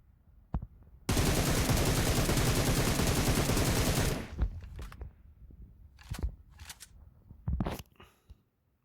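A sustained burst of rapid automatic gunfire from a shooter video game, fired with a laser sight attachment, rattling loudly for about three seconds before giving way to a few scattered clicks and short knocks.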